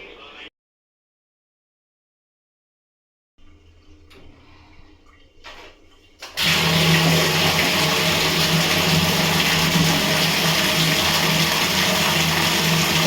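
After a stretch of near silence and faint clatter, a loud, steady rush of water starts suddenly and keeps pouring without pause as vessels fill in a bathroom.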